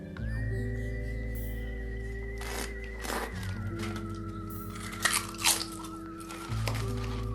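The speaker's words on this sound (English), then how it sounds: "I'm going to pair this wine with some crisps." Salty crisps are crunched close up, with several sharp, brittle bites among steady tonal background music and no talking.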